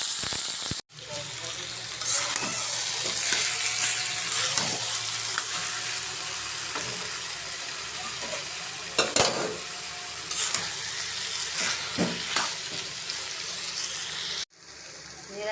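Mixed vegetables fry in hot oil with garlic and green chili. The loud, steady sizzle is broken by a few stirring scrapes and pan knocks, and a brief quiet gap comes near the start and again near the end.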